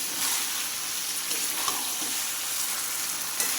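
Spices for a vegetarian potato and pointed gourd curry sizzling as they are sautéed in oil, a continuous frying hiss with occasional soft scrapes of stirring, close and fairly loud.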